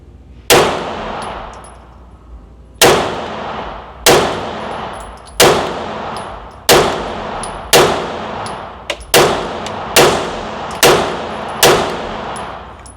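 Shots from a Staccato HD P4 pistol fired at a range, ten sharp, loud, close reports spaced one to two seconds apart, each ringing off with a metallic tail, no talking.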